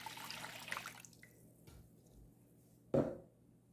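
Warm water is poured into a bowl for bread dough in a brief close splash that fades to a few drips, with a sharp knock near the end.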